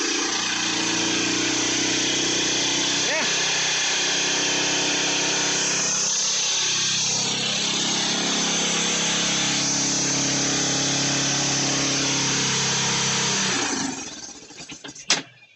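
A 2000 Yamaha Big Bear 350 4x4 ATV engine idles loud and steady at close range after sitting unused, running continuously before cutting off near the end.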